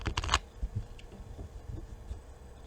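Tarot cards shuffled by hand, a quick burst of riffling and flicking at the start, then softer intermittent card handling and rustles, nearby and fairly quiet, with no talking.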